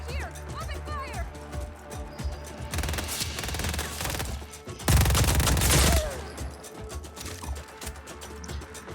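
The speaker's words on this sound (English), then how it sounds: "Target is over here! Open fire!" Enemy automatic gunfire in the action game Just Cause 4, a dense clattering fusillade through the middle of the scene that peaks in a loud, close burst, with talk and mechanical clanks around it.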